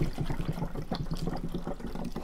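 Water poured from a bottle into a Cirkul water bottle, a close, continuous gurgling splash with a slightly rising fill, moderately quiet and without speech.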